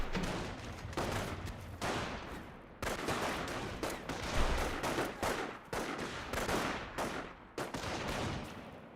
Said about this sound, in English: This rifle squad fires away as well.